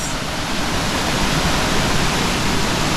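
Mayang Falls in Trece Martires, Cavite, pours in a dense, steady broadband roar of rushing water, close and loud with no break and no voices heard.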